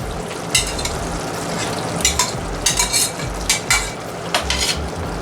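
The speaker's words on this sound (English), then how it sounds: "I'll blend all the spices along with the onion and potatoes, and last I'll add in lamb" A utensil repeatedly scrapes and clinks against a pan while spices, onion, potatoes and lamb are stirred together for lamb biryani. A gentle sizzle runs under the stirring, which comes in irregular bursts, and nobody speaks.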